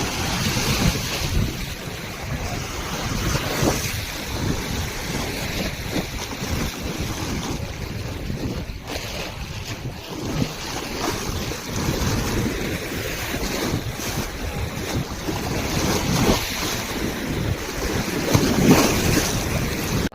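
Water waves wash on the Narmada river like sea surf, a steady broad rush of lapping water mixed with gusting wind and microphone buffeting, heard up close for a long stretch without voices.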